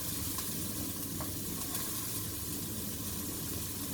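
Celery and onion frying together in fat in a home kitchen, a steady soft sizzle with faint stirring scrapes throughout, no voices.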